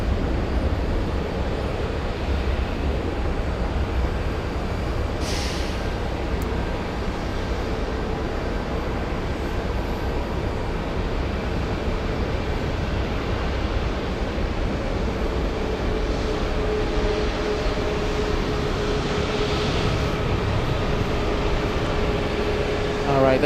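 A United Airlines Boeing 737 takes off at Boston Logan, a steady, loud jet rumble that fills the whole stretch, with a brief hiss partway through and faint voices now and then.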